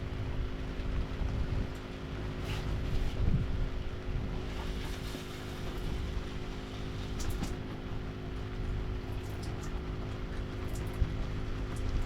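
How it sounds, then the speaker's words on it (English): On a fishing boat out on the water, wind buffets the microphone with a low, steady rumble that continues throughout, with a few faint knocks. "The wind's blowing us around a little bit"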